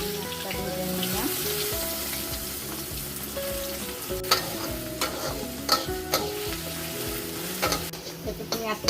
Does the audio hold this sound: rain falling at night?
no